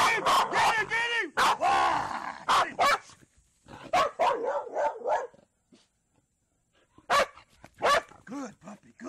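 Dog barking in loud, rapid bursts of deep, harsh barks and yips up close, with a brief quiet pause before another run of barks.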